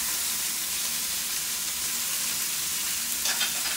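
A rump steak fries in a pan, filling the air with a loud, continuous close-up sizzle and hiss that holds steady throughout, with a brief extra crackle near the end.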